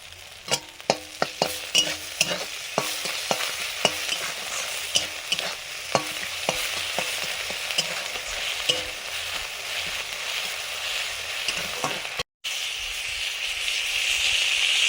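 Salt, ginger and garlic fry with oil in a pan for a tilapia dish, a constant close sizzle broken by repeated sharp scrapes and clicks of stirring, then a brief gap and calmer hissing.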